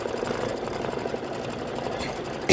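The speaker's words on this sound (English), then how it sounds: "So let's go ahead and stitch that." An embroidery machine stitches a crossbody bag with a fast, steady mechanical whir and rapid needle chatter, running continuously up close, with a brief clunk at the end.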